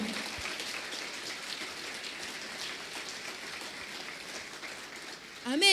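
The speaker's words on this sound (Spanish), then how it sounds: "Denle un aplauso al Señor." Steady crackling applause from a church congregation fills the whole stretch, dense and even, with a voice rising briefly at the very end.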